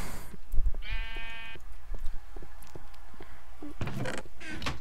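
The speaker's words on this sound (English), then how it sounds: "So now I got a couple of sheep in my house." A sheep bleats once in a Minecraft game, a short wavering cry at close range, surrounded by faint creaks and clicks of in-game activity.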